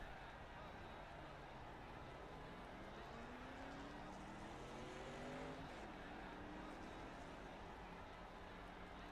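Race cars at Talladega roaring past on the track, a distant engine drone rising in pitch as a pack approaches, faint under an ongoing broadcast-style voice.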